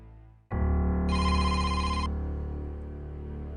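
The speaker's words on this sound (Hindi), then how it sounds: "बेटा माँ, फोन किसका आ गया है?" A mobile phone bursts into a bright electronic ringtone for an incoming call, starting abruptly and holding a sustained melodic tone that gradually fades in a quiet room.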